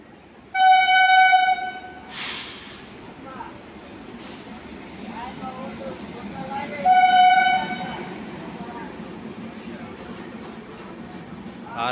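The Kanpur Shatabdi Express passes through Etawah Junction, sounding two loud horn blasts several seconds apart over the rumbling roll of the train, with faint voices in the background.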